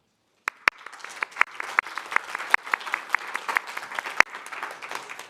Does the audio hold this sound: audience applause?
yes